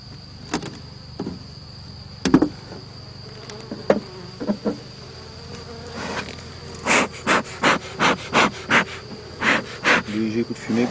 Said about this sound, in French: Donc on peut voir, c'est un tout petit essaim.